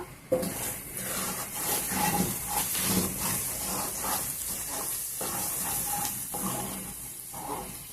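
Cluster beans and egg curry sizzling in a pan over a high flame, a steady broadband hiss with occasional stirring clatter, close and continuous with no talking.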